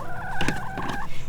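A Dorking hen clucks twice in quick succession, short and moderately faint against a steady outdoor background.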